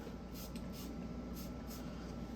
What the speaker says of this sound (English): You just spray on the KPL knife shield